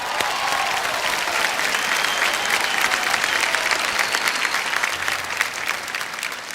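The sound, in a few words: audience applause at Filmfare awards ceremony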